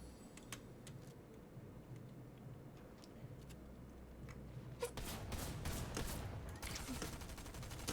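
Gunfire in a video game, a guard shooting at the player from a distance, heard as scattered faint cracks that build into a denser burst of shots in the last three seconds.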